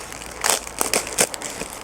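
A small plastic packet of flower bulbs crinkles and rustles close up in a few short, sharp bursts during bulb planting, with no voice.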